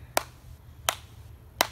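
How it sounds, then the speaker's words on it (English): Three sharp, isolated hand claps ring out at slow, evenly spaced intervals, close and crisp over a quiet low background hum, with no talking. "you want to clap."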